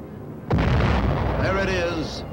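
A radio-guided aerial bomb strikes its target in a sudden, loud, close blast that rolls on as a sustained roaring rumble for nearly two seconds.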